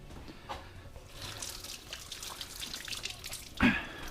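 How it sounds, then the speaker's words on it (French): Tap water running and splashing while hands are washed, a faint irregular trickle with small splashes and a brief louder clatter near the end. "on se lave les mains"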